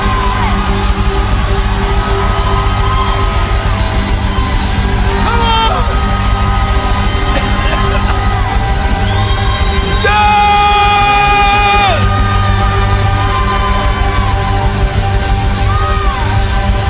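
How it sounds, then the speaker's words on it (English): A large crowd raises its voices together, loud sustained shouting, yelling and whooping that fills the space continuously, with a voice rising over it. "raise up your voice and shout, come on!"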